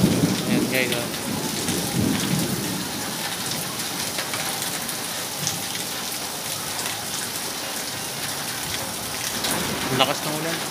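Heavy downpour at a street food vendor's stall, a dense constant roar of rain beating on surfaces, with low thunder rumbling early and again near the end.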